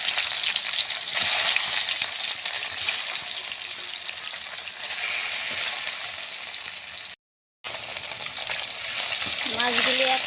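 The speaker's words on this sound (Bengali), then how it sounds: "মাছগুলি দিয়ে দিলাম তেলে" Pieces of rohu fish, rubbed with salt and turmeric, frying in hot oil, a loud continuous close sizzle with occasional crackles and a brief dropout near the end.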